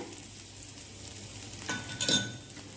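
Spices with Kashmiri chilli sauté in a pan for a mirchi vada filling: a quiet, steady sizzle with stirring, then a short burst of clinking utensil against the pan.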